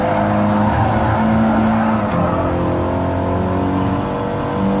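Race car engine revving and accelerating steadily in a racing video game lap at Lago Maggiore, a loud continuous engine drone with shifting pitch bands throughout.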